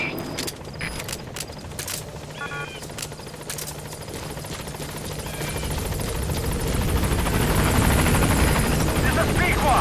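Helicopter in Metal Gear Solid V: The Phantom Pain flying in toward a landing zone, a dense rotor and engine roar that steadily grows louder and closer, with radio voices heard over it.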